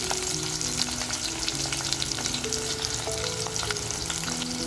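Chopped onion hits hot oil and ghee with whole spices already in the pan, setting off a steady, dense sizzle that holds from start to finish while a spoon stirs the pan. The sound is close and loud, and nobody speaks.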